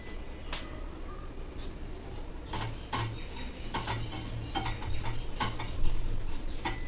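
Dry coconut roasting in a pan, a spoon scraping and tapping against the metal in irregular light clicks over a steady low background hiss.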